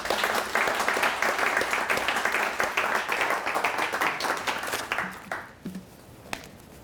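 Audience applause at the close of a talk on learning from failures, dense steady clapping for about five seconds that thins out and dies away into scattered claps and near-silence.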